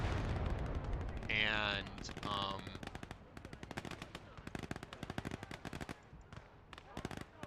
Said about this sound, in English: the enemy artillery has guns too.